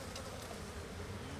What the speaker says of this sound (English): See all them bees on the front?